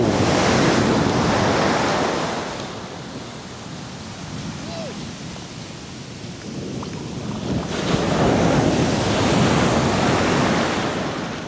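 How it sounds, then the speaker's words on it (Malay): Strong surf crashes and roars in two big swells at Teluk Senangin beach, with wind buffeting the microphone throughout and no clear voices. "Oh, kali ni ombak kuat."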